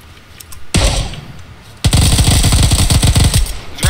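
Friendly-fire gunfire from a teammate in the battle royale game PUBG: a loud, close single shot and then a sustained rapid automatic burst of evenly spaced shots.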